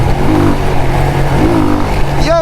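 A motorbike engine revs under steady road noise while riding through the streets, with a rising whine near the end; a voice speaks briefly over it.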